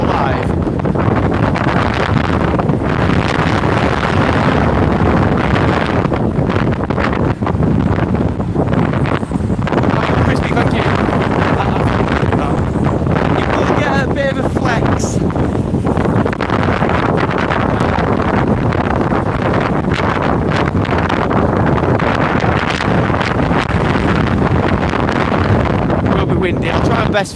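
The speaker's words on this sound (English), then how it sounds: "Windy. I'll try my best for you to hear me." Strong wind buffets the microphone continuously during Storm Eunice on the Blackpool seafront, a loud, constant roar with someone talking over it.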